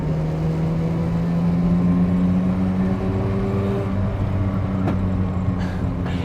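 A 1985 Mazda RX-7's rotary engine drones steadily while driving, a smooth sustained hum that holds its pitch, then shifts lower as the car changes speed, loud and close with no voices.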